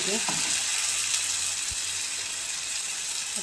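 Tomato and ginger-garlic paste fry in hot oil for a spicy onion curry, a loud, dense, continuous sizzle close up with a few soft knocks of a stirring spoon.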